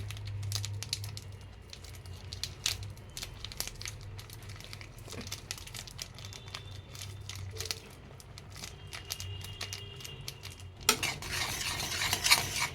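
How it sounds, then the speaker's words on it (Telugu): A spoon stirs masala into pasta boiling in a pot, with steady clinks and scrapes against the metal over a low bubbling hiss, and a brief clatter near the end, with no talk. "సో మసాలా వేసినాక బాగా కలుపుకోవాలి ఫ్రెండ్స్"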